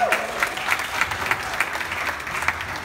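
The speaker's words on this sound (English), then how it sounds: "I want to say a round of applause for Casa Preco." Scattered clapping at a Casa Preco–sponsored creators' meetup in Ghana, a moderate burst of applause with sharp individual claps standing out, fairly near and with no talking over it.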